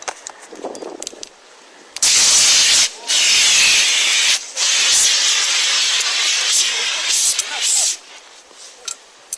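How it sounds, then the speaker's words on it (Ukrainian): A handheld fire extinguisher sprays onto a burning car, a loud, steady hiss that surges in long bursts with brief pauses, close and dominating the scene. "Тому вони взяли вогнегасник зі службового автомобіля та побігли гасити пожежу."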